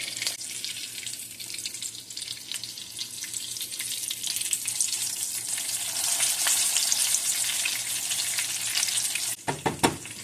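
White catfish fries in a pan with a dense, steady crackling sizzle that swells louder over several seconds, close and continuous, ending with a brief clatter.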